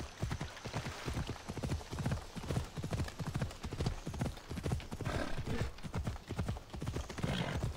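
Steady clip-clop of horse hooves trotting in a quick, even rhythm in the video game Assassin's Creed Odyssey, close and clear, with no talking over it.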